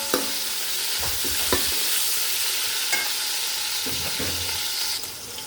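Garlic and ginger fry and hiss in a hot pan for aloo gobi while a spoon stirs them, giving a loud continuous sizzle with repeated scraping strokes and clatters.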